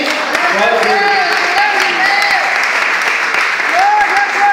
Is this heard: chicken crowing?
no